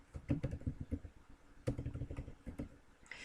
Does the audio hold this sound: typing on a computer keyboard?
yes